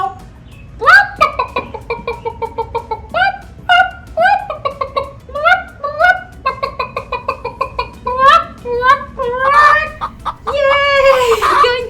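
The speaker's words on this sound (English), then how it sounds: "That was a chicken." A chicken clucks in a steady run of short, rhythmic calls that build to a few longer squawks near the end, close and clear with no talking over it.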